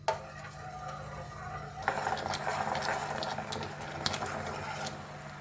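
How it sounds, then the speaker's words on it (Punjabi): Chashni, a sugar syrup with saffron and food colouring, boiling in a pot for mawa kachori, a soft steady bubbling hiss with a few faint clinks of a utensil, close and quiet, with no voices. "ਹੁਣ ਆਪਾਂ ਨੇ 2-3 ਮਿੰਟ ਉਬਾਲਾਂਗੇ"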